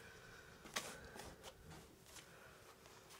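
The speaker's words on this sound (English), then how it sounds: "My hairy arms make it very difficult for me to shuffle these cards." A deck of playing cards is riffle-shuffled, a quiet close flurry of papery flicks with one sharp snap near the start, faint and alone.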